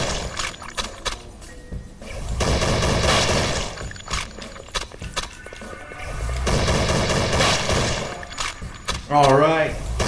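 Shotgun blasts and other gunfire in the Flash action game Thing Thing 4 come in loud bursts, some clustered, mixed with game music and effects, with someone talking excitedly over them.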